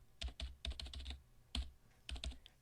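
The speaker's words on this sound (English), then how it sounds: "I was typing out a report" Keyboard typing from the video game SeaBed: a quick series of crisp, close keystrokes in irregular bursts, with short pauses between clusters and no speech.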